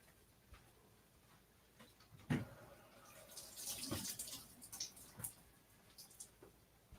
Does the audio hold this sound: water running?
yes